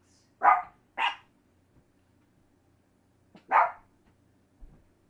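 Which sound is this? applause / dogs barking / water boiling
dogs barking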